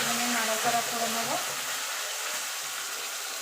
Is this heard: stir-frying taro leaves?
yes